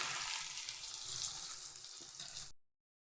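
Onions sizzle in hot oil with whole cumin seeds and bay leaf as they are stirred, a steady close hiss with faint scraping underneath that stops abruptly near the end.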